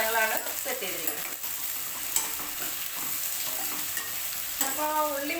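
Sliced onions stirred and frying in a pan for beef roast, a continuous bright sizzle broken by scraping spoon strokes against the pan, close and fairly loud.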